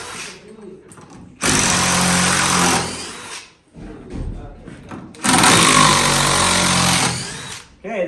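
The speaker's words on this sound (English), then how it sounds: "Now we'll take these screws out because it's screwed together." Power drill backing screws out of a window frame in an Alaska log home: two loud, close, whirring bursts of a few seconds each, separated by a pause with background voice.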